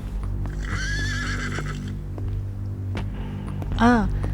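A horse neighs in a Turkish drama scene, a sharp whinny near the end, over steady clip-clopping hooves and a low background hum, with no speech.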